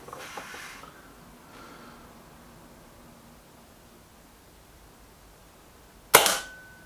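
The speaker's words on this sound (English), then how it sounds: "Shot one for the Kral Puncher Pro 500." A single sharp air rifle shot from a Kral Puncher Pro 500, a crisp loud crack with a short decaying tail, following a few seconds of near silence with faint background noise.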